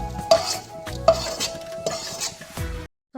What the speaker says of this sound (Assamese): এতিয়া মই সয়াবিনখিনি একদম ৰঙা হোৱালৈকে ফ্ৰাই কৰি ল'ম